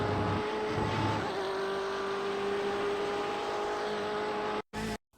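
BMW M8 GTE race car engine lapping Silverstone in iRacing, a sustained loud engine drone with shifting pitch under steady throttle, briefly cutting out near the end.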